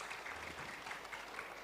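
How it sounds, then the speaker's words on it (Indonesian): Audience applause for Anies Baswedan at a crowded talk event on Indonesia's future, a steady wash of clapping at low level throughout, with no voices on top. "Tepuk tangan dulu deh buat Mas Anies Baswedan."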